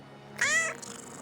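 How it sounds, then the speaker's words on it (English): Cat meow from a video game, a single clear, fairly loud meow lasting about a third of a second over a quiet background. "Excellent kitty voice work."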